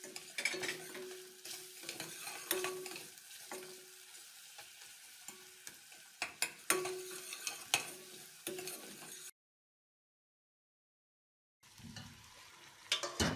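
Whole garam masala crackling in hot oil with ginger garlic paste for a bong paya stew, a steady close sizzle broken by stirring scrapes and clinks of a spoon, then a brief silence before the frying resumes.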